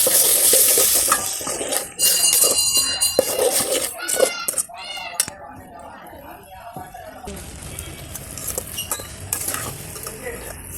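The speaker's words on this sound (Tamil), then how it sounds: "இது நல்லா பச்சை வாசனை போகிற வரைக்கும் நம்ம வதக்கி விட்டுக்கலாம்" Ground ginger, garlic, mint and coriander paste sautéed in a pan over a wood-fired stove: scraping stirs, clinks and a light sizzle, with a person talking over much of it.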